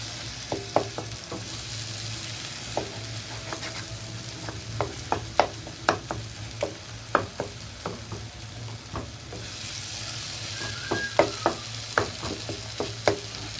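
Mashed eggplant for baingan bharta frying in a pan while a spoon stirs it, a steady sizzle broken by many sharp taps and scrapes in an irregular rhythm, close and with no voices.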